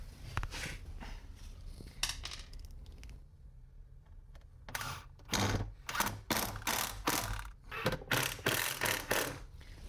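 Kitchen cabinets for a movable kitchen island being screwed together, giving a series of sharp ratcheting, clicking bursts in quick rhythm after a quieter stretch, close and fairly loud with no talk.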